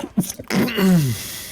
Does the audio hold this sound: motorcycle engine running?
no